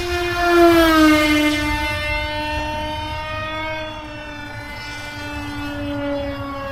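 An RC Dragonfly delta-wing plane flies at full throttle, its electric motor giving a steady, loud, high-pitched whine with a slowly falling pitch as it passes.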